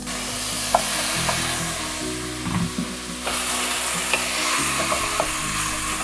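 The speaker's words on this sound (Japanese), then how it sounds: "このくらい炒めたら今度はじゃがいもと玉ねぎを入れます。" Potatoes and onions stir-fried in a pan for homemade curry: a steady, fairly loud sizzle with repeated utensil scrapes and knocks against the pan at an uneven pace, heard up close with no talking.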